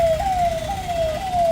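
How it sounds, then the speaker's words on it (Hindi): An ambulance siren wails on a road, with a steady, loud electronic tone over a broad rumble of traffic and street noise. "ये एम्बुलेंस, ये आप देख सकते हैं"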